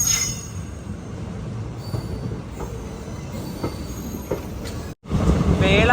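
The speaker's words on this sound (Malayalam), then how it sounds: "Ernakulam Velankanni by weekly express" The Ernakulam–Velankanni bi-weekly express rolls along with a loud continuous rumble and high wheel squeal, heard close from on board, with a brief dropout near the end before the noise resumes.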